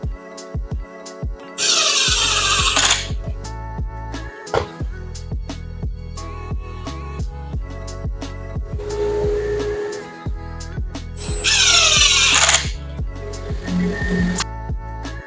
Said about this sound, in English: I'm going to start putting the legs on with some 3-inch wood screws and some washers